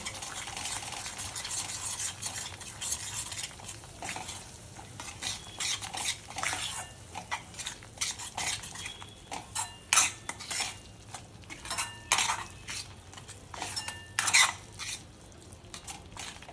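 A spoon stirs black chicken masala in a pan, sautéing the chicken with two spoons of black masala; scraping and clinking come in irregular bursts over a low, steady sizzle, with no voices.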